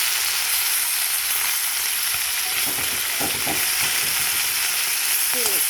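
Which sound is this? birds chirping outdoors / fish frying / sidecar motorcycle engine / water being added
fish frying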